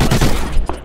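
Gunfire in the video game Call of Duty: Ghosts on PS4, a short, loud burst of rapid shots and booms.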